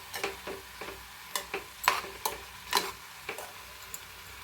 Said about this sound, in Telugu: ఇలా పెసరపప్పు యాడ్ చేసుకున్న తర్వాత మళ్ళీ గరిటెతో తిప్పుతూ కలుపుకోండి.